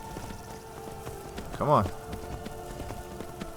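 Horse hooves clip-clop in Skyrim beneath steady rain, with one louder whinny-like call near the middle, while a person speaks briefly.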